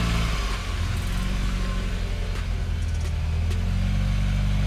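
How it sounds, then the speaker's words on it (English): A mid-size SUV on mud-terrain tires revs its engine hard while climbing an off-road diagonal, a loud, sustained engine drone that rises and falls as the throttle is worked and the wheels slip. "The car reaches the first diagonal, stops, slips when throttling, and continues climbing."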